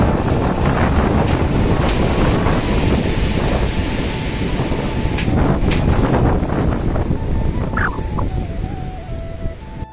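Cold wind blows hard across the mic beside risen water on a picnic outing, a loud, constant gusty rush with faint tones and a few knocks near the end.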